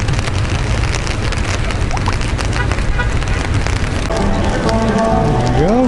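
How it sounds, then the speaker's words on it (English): Steady heavy rain falling at a car event at a motor speedway, a dense continuous hiss and patter with a faint engine hum joining near the end. "Again, the rain really sucks."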